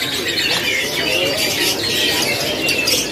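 Canaries, local Indonesian F-series singers, chirp and trill in a dense, continuous chorus at a bird market kiosk in Pramuka, a busy, steady wash of overlapping birdsong with no pauses.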